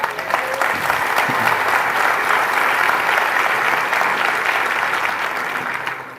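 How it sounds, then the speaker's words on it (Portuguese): A church congregation applauds together, a steady dense wash of clapping that stays loud for about six seconds and fades slightly at the end. "Dê um aplauso ao Senhor."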